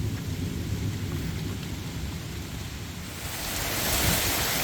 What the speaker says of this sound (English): It sounds like Thor is on the loose today